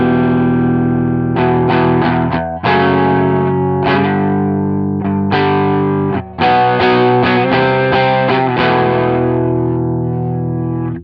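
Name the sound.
distorted guitar through Marshall amp plugin in Two Notes Genome, 4x12 cabinet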